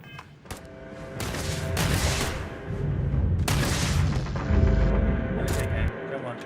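Gunfire in the Starfield space game, a string of heavy, booming shots with long resonant tails, loud and close, several blasts overlapping across the stretch.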